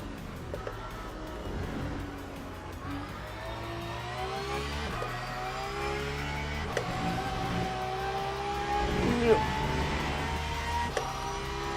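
Porsche race car engine in Le Mans Ultimate, a steady droning note with rising and falling pitch sweeps as the car accelerates and shifts, sitting at a moderate level under light talk.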